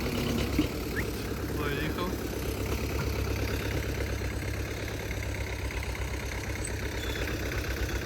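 An MTZ tractor ploughing with a paired plough, its engine droning steadily at full throttle with a dense, knocking low-end rumble throughout, and a voice speaking over it.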